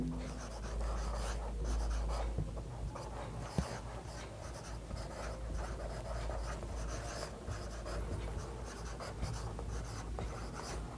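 A pen or chalk scratches steadily while a geometry proof is written out, with soft strokes and taps over room noise, a faint dog panting and a low voice.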